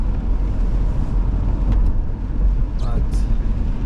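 A car driving through snow on Route 208 in New Windsor, New York, during the first snowstorm of the year, giving a steady, loud, rumbling road and engine noise with tire hiss throughout, broken by a few faint brief squeaks.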